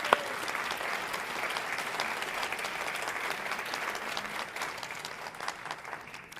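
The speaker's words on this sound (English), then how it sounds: "Let's give our entire team one huge round of applause." A large crowd at the Miss New York Teen USA finals keeps up a steady, dense round of applause from start to finish, with faint cheering mixed in.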